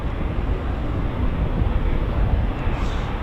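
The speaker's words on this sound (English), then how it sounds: "Yeah, so that was Typhoon 8-2. That just departed" A Eurofighter Typhoon FGR4 jet departing RAF Coningsby, heard as a dense, roaring broadband rumble that stays loud and steady for the whole stretch, with wind buffeting on the microphone.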